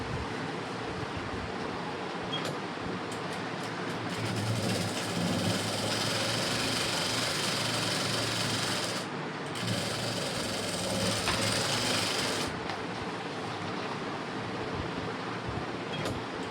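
A sewing machine runs steadily while stitching an embroidered blouse, its fast, even whirring loud and continuous, dropping out briefly for a moment before starting up again, with no voices heard.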